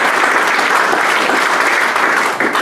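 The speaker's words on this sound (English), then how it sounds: "let's give the Spirit of Govhack guys another round of applause" A room full of people at a GovHack event claps loudly and steadily, a thick, even wash of applause that holds its level throughout.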